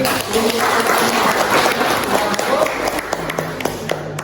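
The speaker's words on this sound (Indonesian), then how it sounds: "Ya, tepuk tangan lagi." Classroom audience clapping during a mathematics lesson on matrix determinants, a dense steady patter of hands lasting several seconds, with some faint voices mixed in.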